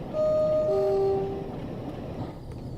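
A Southeastern high-speed train in Train Sim World 3 sounds a steady two-tone horn, then rolls on with a low, even rumble as the horn fades.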